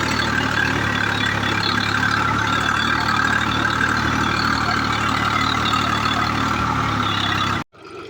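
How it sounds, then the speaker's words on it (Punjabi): A John Deere 5054 tractor engine idles steadily and close by, a constant low rumble holding at an even level for about seven and a half seconds before cutting off abruptly near the end. "ਖੜਿਆ ਆਪਣਾ ਜੌਂਡ ਗੀਅਰ 5054x4"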